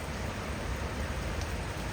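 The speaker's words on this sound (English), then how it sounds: "It's raining outside." Steady rain falls outdoors in the Pakistani mountains near a glacier and a small stream, a dense even hiss that stays constant and fills the whole stretch without pauses.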